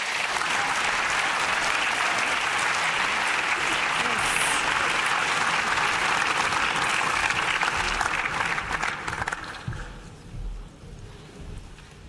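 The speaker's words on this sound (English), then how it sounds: "Please give them a warm round of applause." A large audience at the LUX Audience Award ceremony claps in a sustained, dense round of applause that holds steady for several seconds, then thins out and fades as a few scattered claps linger.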